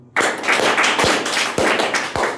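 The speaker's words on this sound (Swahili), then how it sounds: "Patia makofi inatosha Nairobi" An audience in Nairobi claps, a dense burst of applause that starts abruptly and holds steady, close and loud, with a few sharper slaps standing out.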